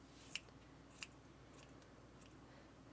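Scissors trimming crochet yarn on a Santa ornament's beard, a few faint, crisp snips spaced irregularly over quiet background noise.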